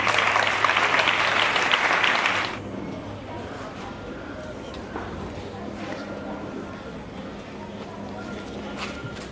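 A hall audience claps loudly and densely at a school mental-arithmetic competition ceremony, the burst lasting about two and a half seconds before cutting off into a quieter murmuring room.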